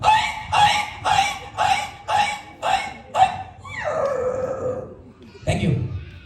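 A comedian on stage mimics a dog being beaten: seven rhythmic barks in a row, then a drawn-out falling yelp and one final sharp cry, voiced loudly by a man.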